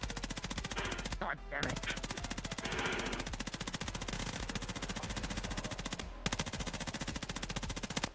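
Rapid automatic gunfire from a VRChat video game combat scene, a dense continuous rattle of shots with only brief pauses, and a voice speaking briefly over it.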